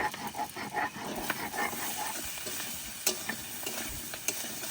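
Sliced ridge gourd goes into a pan of frying potatoes with green chili, salt, turmeric and ginger paste, giving a steady close sizzle with scraping and clattering stirs.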